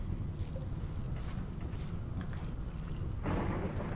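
Steady rain hisses in the video game RimWorld under a low, continuous rumble of distant thunder, with the downpour growing heavier near the end.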